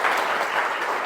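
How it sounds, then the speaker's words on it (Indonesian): A brief burst of steady clapping from a class of students, filling the whole short moment at an even level. "bisa berikan tepuk tangan?"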